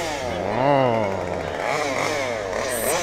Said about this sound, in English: I could hear a chainsaw.